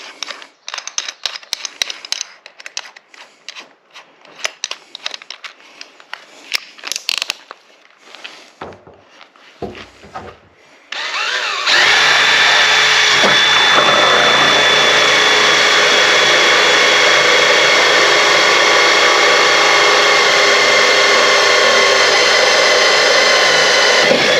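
Scattered handling clatter and taps give way to a loud, steady high-pitched whine of a power drill boring a hole, running continuously for the rest of the stretch.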